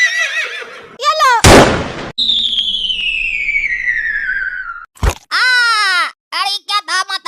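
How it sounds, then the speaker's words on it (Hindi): A cartoon gunshot or bomb blast booms as one loud, short burst between exaggerated horse whinnies and animated voices talking. "तुम गोली चला रहे कि बम चला रहा है?"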